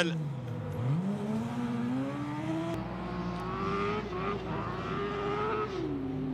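A Rally Kart 96 race car on a racing circuit, its engine rising and falling in pitch as it shifts and accelerates past, fairly close, under a commentator's talk.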